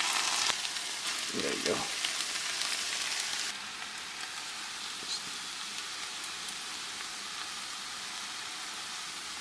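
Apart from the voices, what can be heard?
tomatoes sizzling in a pan with caramelized onions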